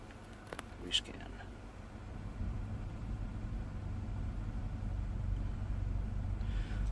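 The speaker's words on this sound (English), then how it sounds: "Look, the truck runs well, man. Engine's smooth." A 1996 Ford Ranger XLT pickup truck idles with a steady, low engine hum. A few brief clicks come early, then the rumble grows slightly fuller and stays even.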